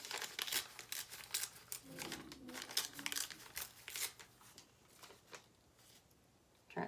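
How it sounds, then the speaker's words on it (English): Paper being torn by hand with the fingers during a witchcraft spell ritual, heard as a series of close crinkling, ripping bursts repeating in quick succession, with no talking. "You're going to tear it with your fingers towards you."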